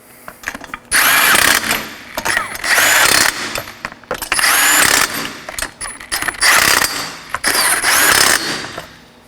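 A power tool runs on wheel fasteners of a 2013-2019 Nissan Sentra, sounding in about six loud, close bursts of whirring and ratcheting with short gaps between them.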